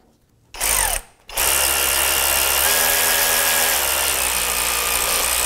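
A power tool snugs a radiator bolt on a 2001-2007 Volvo V70: a short whirring burst, a brief pause, then a steady, loud, close whine that runs on without a break.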